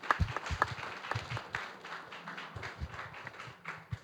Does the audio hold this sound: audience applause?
yes